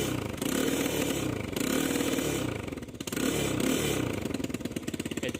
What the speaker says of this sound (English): quad bike sounds like when it's turned on